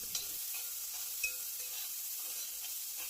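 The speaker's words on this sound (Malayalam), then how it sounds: "ഉരുളിക്കകത്ത് ഒരു 2 സ്പൂൺ എണ്ണ ഒഴിച്ച് കൊടുത്തിട്ട് നമ്മൾ കൊച്ചുള്ളിയും സവാളയും കൂടി ഇട്ടൊന്ന് വഴറ്റിയെടുക്കാം" Shallots and onions sautéing in a couple of spoons of oil in an uruli, a soft steady sizzle with light stirring scrapes, faint and close, with no talking.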